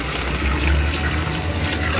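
Water poured from close by over green plantains in a cooking pot with salt, a loud continuous rushing, splashing stream lasting the whole moment.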